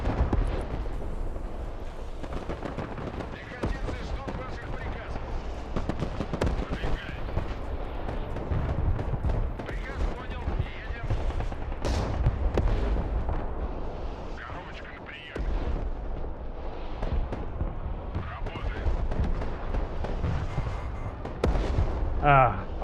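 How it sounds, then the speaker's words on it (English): Heavy artillery barrages in the real-time strategy game Broken Arrow, a continuous loud rumble of booms and blasts layered with scattered bursts, with a voice talking over it throughout. "Artillery from middle now."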